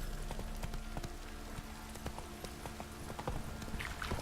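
Rhythmic clip-clop of horse hooves at a steady gallop in The Witcher 3, close and continuous over a low ambient bed, with faint rain-like patter.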